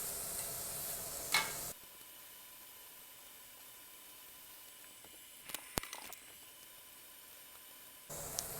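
Lion's mane mushroom fries in a pan over medium-high heat, a faint, even hiss with a few brief clicks partway through and louder bursts of noise at the start and end.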